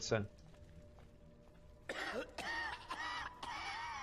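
A character in the video game I Am Alive coughs in a few rough, short bursts over quiet in-game ambience.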